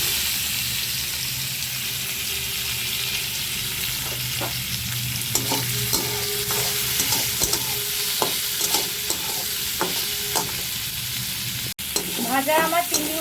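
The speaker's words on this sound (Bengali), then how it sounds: "সর্ষের তেল দিয়ে আমি চিংড়ি মাছগুলোকে ভেজে নেব।" Prawns fry in hot mustard oil in a wok, a loud, steady sizzle with scattered clinks and scrapes of stirring and a few sharper knocks near the end, with no talk.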